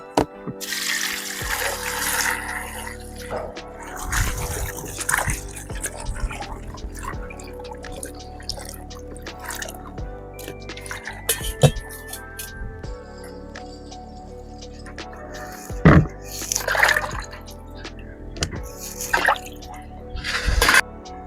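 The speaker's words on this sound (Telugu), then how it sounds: "ఇప్పుడు ఈ వంకాయలను నీట్గా కడుక్కొని కాటు పెడదాం" Eggplants are washed by hand in water for Telugu-style bajji, with splashing, dripping and trickling sounds in bursts, clattering against a vessel, close and moderately loud.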